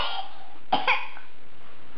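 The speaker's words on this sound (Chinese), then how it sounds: "好，弟弟咳嗽。" A young child gives a single fake cough, a short close burst with a small follow-up, set against a quiet indoor room.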